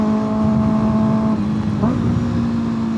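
A 2025 Kawasaki ZX-6R idles close by, then gives one short, quick throttle blip around the middle that briefly lifts the engine note before it settles back to a steady idle.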